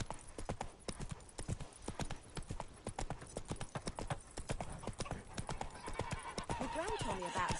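Galloping horse hooves in the video game The Witcher 3: Wild Hunt, rapid rhythmic clip-clop beats throughout with a neigh near the end, over game ambience and character speech.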